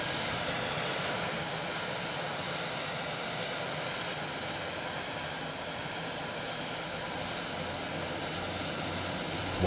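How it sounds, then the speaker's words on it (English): A steady, loud roar of Turbo DC-3 turboprop engines starting, with a rising high whine that climbs through the clip, a jet-like turbine drone without talking. "When starting the engines, you can immediately hear the difference. The turboprop sounds like a jet"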